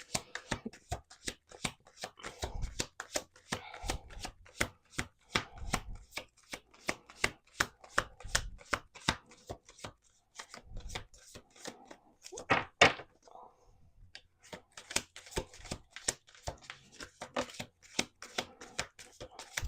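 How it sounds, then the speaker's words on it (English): Tarot cards are shuffled by hand in repeated rounds, a dense train of sharp, close riffling taps and soft thumps on a table, with brief pauses between bursts. "Probably like two more shuffles,"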